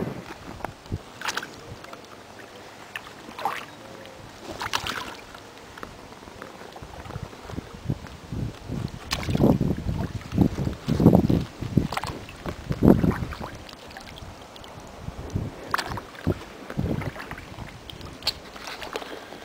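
Paddle strokes from a Sevylor Colorado canoe on a Thames river backwater, with intermittent splashes and drips over light wind noise on the microphone, the strokes growing more frequent midway.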